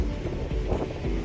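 Strong outdoor wind buffets the microphone during a home inspection outside a house, making a steady, dense low rumble with no voice over it.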